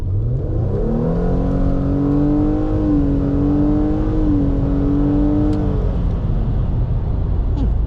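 2017 Nissan Altima pulling hard from a 25 mph roll, its mid-pitched engine climbing steadily in pitch for several seconds before easing off, loud and close with no voices.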